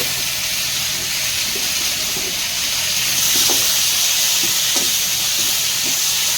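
Tomatoes with a pinch of salt being stirred in a hot, sizzling pan while making chicken kosha: a steady, close hiss runs throughout, with a few faint clinks of the stirring spoon.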